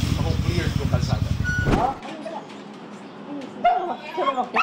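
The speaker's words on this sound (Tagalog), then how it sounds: "pinalikan naman ng pamilya Borses ang alaga nilang aso na naiwan sa bubong sa kasagsagan ng bagyo" A pet dog stranded on a rooftop during a typhoon in Liloan barks and whimpers loudly for about two seconds, then only quieter background noise and voices remain.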